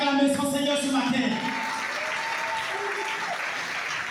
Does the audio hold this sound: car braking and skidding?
no